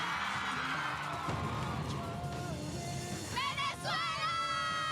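Fans scream and cheer loudly and continuously at a Twilight 10th anniversary convention panel at New York Comic Con, a dense, high-pitched crowd roar with shrill individual shrieks rising over it.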